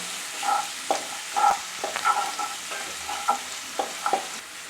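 Finely chopped garlic frying in oil for tomato thokku, a continuous close sizzle punctuated by repeated spoon strokes and taps against the pan, no voices.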